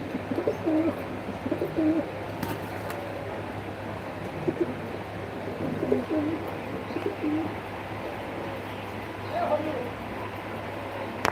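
A male pigeon coos in soft, scattered, low bubbling phrases through a steady hum of background noise, with someone speaking at times in between.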